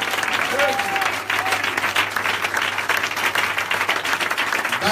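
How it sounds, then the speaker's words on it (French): A church congregation applauds and cheers for Jesus Christ during a Friday prayer and worship service, with steady dense clapping filling the room for several seconds and a few voices rising over it. "Est-ce qu'on peut acclamer Jésus-Christ?"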